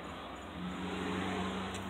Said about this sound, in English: we got cars going by